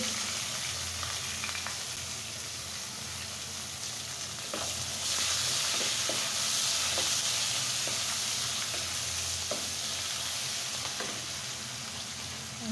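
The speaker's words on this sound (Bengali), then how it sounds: "পেঁয়াজটা খুব সুন্দর করে একদম ব্রাউন কালার করে ফ্রাই করে নেব।" Chopped onion fries steadily in a hot pan, a continuous close sizzle and crackle with light stirring scrapes and no talking.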